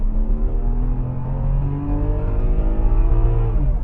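A BMW 730Li F02 sedan spins a wheel with a steady engine drone and rising revs. A faint tire scrub runs underneath, with no talking.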